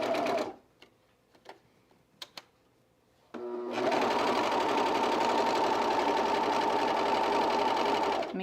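Domestic sewing machine stitching a T-shirt ruffle: a few soft clicks and knocks in near silence, then the motor starts and runs steadily, humming loud and close with a fast mechanical chatter until the end.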